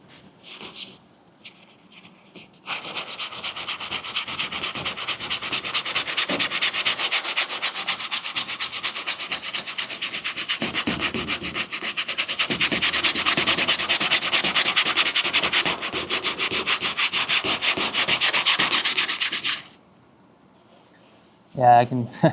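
Steady, loud scratchy rubbing of a sanding block hand-sanding runs out of a wipe-on clear coat gloss finish, continuing for about seventeen seconds after a quiet start and stopping abruptly, with a brief voice at the end.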